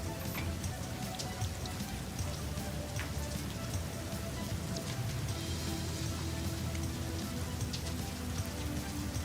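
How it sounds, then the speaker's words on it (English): Steady rain falls outside at a recycling center build site, a continuous dense patter of drops on surfaces at moderate level, with no talking. "Oh, I love the sound of the rain."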